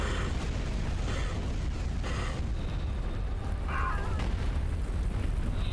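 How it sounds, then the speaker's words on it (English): Bombing run in Star Wars Empire at War, with a steady rumbling barrage of muffled explosions and several brighter bursts spaced across the clip, continuous and fairly loud. "Commencing Bombardment bombing run."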